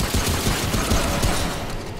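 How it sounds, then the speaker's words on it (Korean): Dense, rapid gunfire from an enemy shooting from cover in Remnant: From the Ashes, a loud unbroken fusillade of overlapping shots lasting two seconds. "와, 숨어 쏘고 있어."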